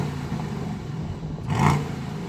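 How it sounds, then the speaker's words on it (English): An Aston Martin DBX 707 SUV engine hums at idle, then briefly blips into a short rev before settling back, heard close up with no voices. "I'm going to start off in this Aston Martin because I think it's going to sound better than your car."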